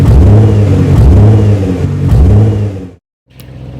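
Nissan Skyline GTR R35 with a 3.8-liter twin-turbocharged V6 revving hard, loud and close, its pitch sweeping up through repeated gear pulls before cutting to a brief silence and a quieter idle.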